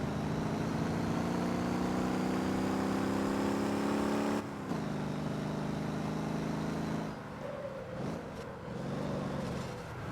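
A vehicle in the driving game Motor Town, a steady droning engine tone held while driving, then dipping and shifting pitch as it slows and turns through a corner.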